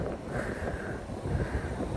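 Wind blowing outdoors, a steady rushing, buffeting roar across the microphone with small gusty swells, filling the whole moment with no voices.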